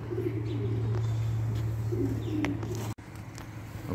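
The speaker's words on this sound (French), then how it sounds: "Et là on a des pigeons avec poules" Pigeons coo in low, soft, rolling murmurs close by in a mini farm pen with hens, with faint chirps and light rustling around them and a brief knock near the end.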